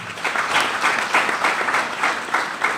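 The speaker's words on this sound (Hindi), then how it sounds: "मेरे सीनियर और सिस्टम के लिए एक जोरदार ताली हो जाए।" An audience claps loudly and continuously, a dense wash of applause with gentle swells and no voices rising above it.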